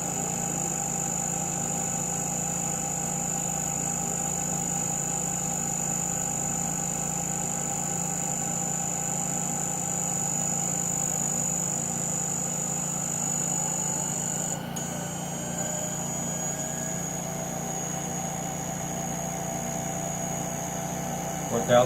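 A Brewer Science 100 spin coater runs at 4000 RPM with a steady, even mechanical hum and high whine that holds constant throughout, close and moderately loud.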